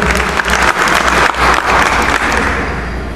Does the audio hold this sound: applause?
yes